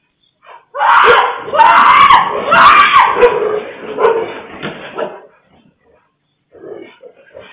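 Stray dogs bark and snarl while a person screams in panic in a chaotic, loud, close burst lasting several seconds, recorded by CCTV, then it drops to near silence before a brief faint flurry returns.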